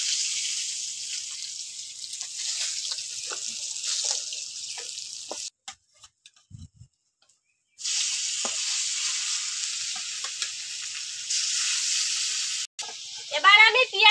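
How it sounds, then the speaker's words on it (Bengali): Pieces of catla fish frying in oil in a pan give a loud, steady sizzle that drops to near silence for a couple of seconds midway, then resumes with bubbling crackle. "কাতলা মাছটা ভাজি নিছি, এবার তুলি নিবা।"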